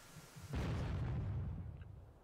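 A 2,000-pound bomb detonates on a bridge in a flight simulator game, a single heavy blast that bursts in suddenly and rolls on as a deep, sustained rumble, fading slowly.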